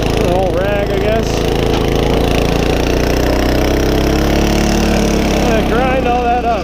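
HORSE rototiller tilling garden soil, its engine droning loud and continuous close by, with a voice speaking over it.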